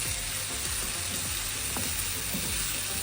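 Chopped peppers and tomatoes fry in a pan for shakshuka, giving a continuous dense sizzle with a few faint utensil taps, close and steady throughout.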